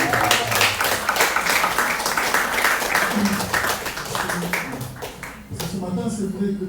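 Adults applaud a class of students and their teacher at a school event, clapping steady and fairly loud throughout, with voices talking over it and children's voices surfacing near the end.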